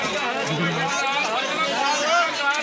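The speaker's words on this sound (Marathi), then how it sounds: "तर इकडे खूप गर्दी आहे आज." A dense crowd packed at a hilltop temple, with many overlapping voices forming a continuous close babble and no single voice standing out.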